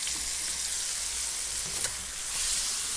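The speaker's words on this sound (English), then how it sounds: "As you can hear the sizzle." Steady, loud sizzling and crackling of kimchi frying in a hot pan, continuous hiss throughout with occasional pops.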